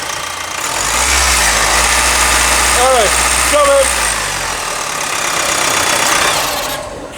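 An Opel Astra 1.6 CDTI diesel engine runs loudly close by after a timing chain replacement, its revs rising and falling while a voice speaks briefly over it.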